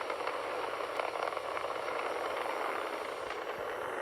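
A SpaceX Falcon 9 rocket roars steadily during launch as it climbs past Mach 1, a faint, distant broadband rumble holding constant without breaks.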